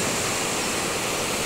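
River water rushes beneath a large bridge under construction, a dense, steady roar of flowing water with no breaks, loud and close, with no voices.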